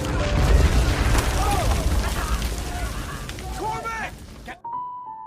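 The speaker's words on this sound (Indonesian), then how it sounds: "sebuah ledakan menghantamnya" A battlefield explosion in a war film, a heavy booming blast rumbling loud at the start and decaying over several seconds, with shouting voices under the roar before an abrupt cut to quiet.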